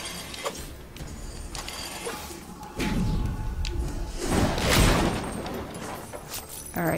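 Loud smashing and thudding of objects being broken in the video game Sunset Overdrive, a series of heavy crashes and whooshing impacts at close range, with no talking.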